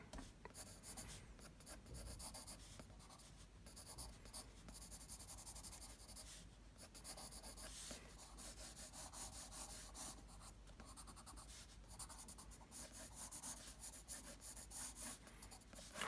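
Pencil drawing the Eiffel Tower on paper, a continuous soft scratchy rubbing of graphite strokes, very faint and close, with no voices.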